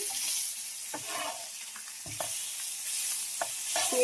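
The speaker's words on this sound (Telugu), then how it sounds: "ఇంకా ఆయిల్ తక్కువగా వేసుకొని ఇంకా ఆ విధంగా ఫ్రై చేసుకుంటూ ఉండాలి" Fish pieces fry in hot oil in a pan. A quiet, hissing sizzle runs throughout, broken by occasional sharp scrapes and taps as the pieces are moved. No one speaks.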